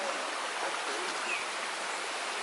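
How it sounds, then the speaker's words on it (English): Steady broadband roar of a waterfall and rushing river stream in Maricao, Puerto Rico, constant and close, filling the whole moment with no pauses or voices. "We had no idea this crazy waterfall was right here."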